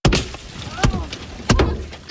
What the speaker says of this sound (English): hail the size of softballs came crashing down